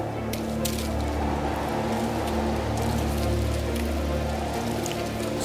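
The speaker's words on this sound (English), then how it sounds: "So the hail came." Steady dense patter of hail rattling on a castle's slate roof for a storybook scene, a continuous close hiss with scattered sharper ticks and no voices.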